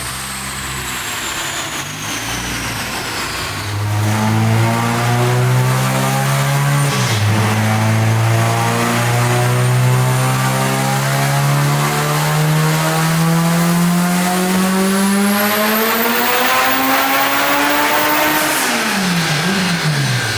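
A turbocharged B18 engine in an all-wheel-drive Honda Civic EG Si revs hard on a dyno at 34 psi of boost, loud and powerful, its pitch climbing steadily for a long stretch before dropping off near the end.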